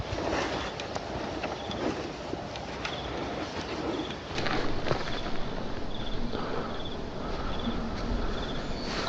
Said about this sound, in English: Because I just hear crickets.